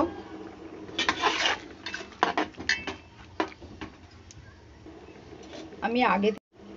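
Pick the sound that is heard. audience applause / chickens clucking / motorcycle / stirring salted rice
stirring salted rice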